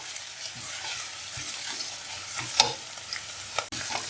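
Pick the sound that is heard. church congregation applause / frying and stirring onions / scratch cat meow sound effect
frying and stirring onions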